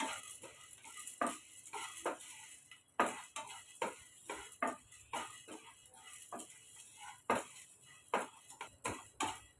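Chana dal and urad dal being dry-roasted in a pan: a steady run of light, irregular metallic scrapes and clicks from a spoon stirring the lentils, close and clear with no talking.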